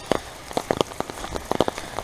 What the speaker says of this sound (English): The rain. I love the rain.